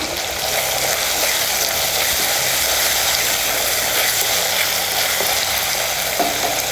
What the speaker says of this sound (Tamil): இப்போ தக்காளி சேர்த்துட்டு இதையும் நல்லா வதக்கிக்கலாம்